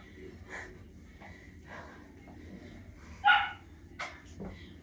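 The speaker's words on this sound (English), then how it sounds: "Sorry for the puppy barks." A puppy barks several times at a home HIIT workout, short sharp yips and barks spread across a few seconds, a couple louder than the rest, fairly close over quiet room noise.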